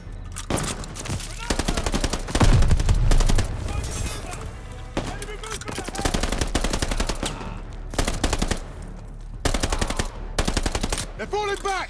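Sustained machine-gun and rifle fire aimed at enemy infantry in the Call of Duty: Vanguard campaign (Operation Tonga), loud bursts throughout with explosions and shouted voices mixed in.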